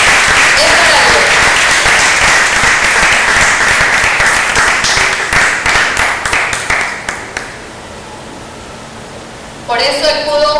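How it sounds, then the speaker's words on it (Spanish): Loud, dense applause fills a church congregation for most of the stretch, then thins out and fades, with a few voices and a brief new burst near the end. "Aplauda fuerte, que es para Dios."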